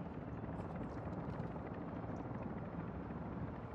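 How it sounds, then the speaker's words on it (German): An exfiltration helicopter in the video game Call of Duty: Modern Warfare III whirs steadily and loudly throughout, a continuous dense rotor roar with no talk over it. "Sehe den Exfiltrationsvogel."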